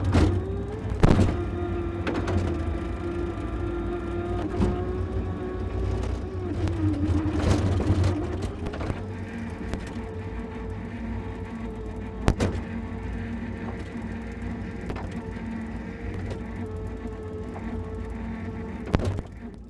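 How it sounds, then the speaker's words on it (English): The electric motor of an amusement ride car at Joyland's Snails and Tubs ride gives a steady tonal whir. A few sharp electrical clicks and pops cut through it where the current pickup drops out. "harsh electrical click sound every time the current pickup was interrupted on the ride cars"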